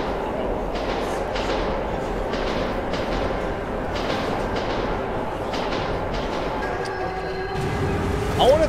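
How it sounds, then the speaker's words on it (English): A ghost train rumbles past in the Metro 2033 Redux video game, a continuous rolling clatter with rhythmic wheel thumps and metallic squeals, loud and close, with voices talking over it. "What the hell is that? Is that a ghost train?"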